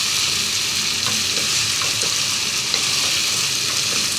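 Whole chillies fry in hot oil for aloo methi bhujia, a loud, steady, close sizzle that continues without a break and has no talk over it.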